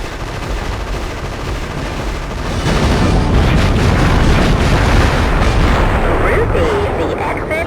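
Dense, loud gunfire and booming explosions from the PlayStation game Future Cop: L.A.P.D., rumbling continuously and swelling midway through, with scattered electronic effects near the end.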